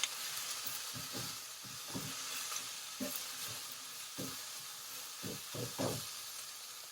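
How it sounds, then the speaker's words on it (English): Mushrooms and vegetables sizzle softly in a pan, a faint steady hiss broken by several light clicks and taps of a utensil. "So I'm going to go ahead and add my mushrooms that we cut up."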